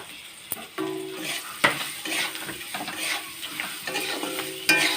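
Boiled potatoes frying in a pan with turmeric for an Assamese fish curry, a close sizzle broken by repeated scraping stirs and light clinks of the utensil against the pan.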